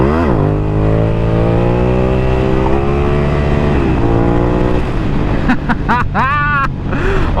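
A Suzuki SV650 motorcycle engine winds up loudly through rising revs, then drops as the bike brakes hard and lifts its back end, followed by sharp blips of the throttle close by.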